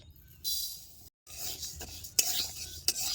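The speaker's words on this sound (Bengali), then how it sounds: "এই ডালকটা কিন্তু কড়া করে বাজে নেব" Mung dal is dry-fried and stirred in a kadai wok over a lit stove, with scraping, clinking strokes and a light sizzle in short bursts separated by brief pauses.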